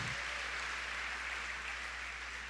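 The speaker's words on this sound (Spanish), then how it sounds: "¿Por qué no le da un fuerte aplauso al Señor?" A church congregation applauding the Lord, producing a dense, even wash of clapping that holds steady for a couple of seconds with no talk over it.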